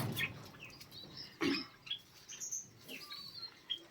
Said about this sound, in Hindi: दोस्तों ये रात को निकला था बजरी चिड़िया का बच्चा, देख सकते हैं आप कितना सुंदर है।